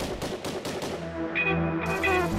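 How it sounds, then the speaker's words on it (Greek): Rapid bursts of gunfire right after an explosion near the Kerem Shalom border crossing, a string of sharp loud shots in quick succession followed by a dense, sustained rumble and echoing reports, with no talking. "Γίνεται μια έκρηξη και αμέσως μετά ακούγονται πυροβολισμοί"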